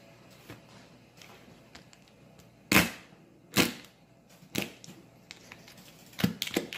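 A sturdy knife forces open a cooked lobster's shell for garlic-mojo lobster, producing a handful of sharp, faint cracks and snaps at irregular intervals over quiet background, with no voices.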